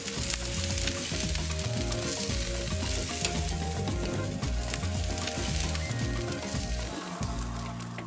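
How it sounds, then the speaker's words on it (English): T-bone steaks sizzle on a barbecue grill in a loud, dense, steady hiss and crackle that lasts the whole time, with no voices. "Now, while the steaks are grilling on this side"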